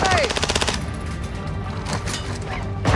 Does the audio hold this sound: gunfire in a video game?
yes